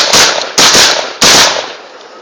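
Three loud AK-47 rifle shots fired outdoors at close range, each a hard crack with a long ringing tail, spaced about half a second apart.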